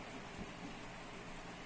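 Rain falling steadily on a circus bus during a rainy day, a dense even hiss with no clear individual drops.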